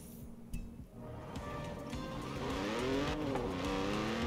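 An Audi Quattro is driven in Forza Horizon 4, a car prone to sliding; its engine revs and climbs in pitch as it accelerates, with a brief tire squeal and no talking.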